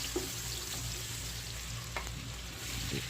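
Garlic sizzles steadily in hot oil inside a cooking pot, a continuous close-up crackle with a few faint stirring clicks and no talking.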